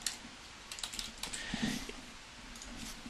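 Quiet typing on a computer keyboard, a close, faint, irregular patter of key clicks with brief bursts and short pauses and no voices.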